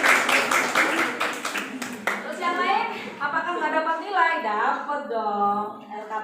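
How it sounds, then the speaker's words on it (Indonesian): Classroom applause from students, a short burst of quick hand claps in the first two seconds, followed by someone speaking. "Selamat ya, tepuk tangan lagi dong."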